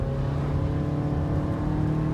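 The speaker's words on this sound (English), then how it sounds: "Here's what the engine sounds like accelerating." A 2019 Toyota RAV4 Hybrid XSE engine accelerating in sport mode on a rainy drive, a steady droning hum with tonal whine layered over road noise, heard from inside the cabin.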